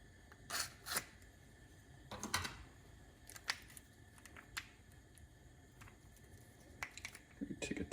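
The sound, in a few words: cutting open an instant noodle seasoning packet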